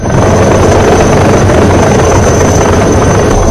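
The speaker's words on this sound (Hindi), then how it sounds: "देखिए जरा किस तरह से भारतीय वायुसेना का हेलीकॉप्टर पहुंचा है श्रीलंका में।" An Indian Air Force helicopter arriving on a rooftop rescue mission in Sri Lanka makes a loud, steady, close rotor roar and engine drone that stays constant throughout, with no talk.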